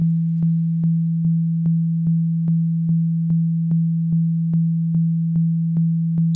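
A steady, pure low sine tone held throughout, with soft regular clicks pulsing about twice per second.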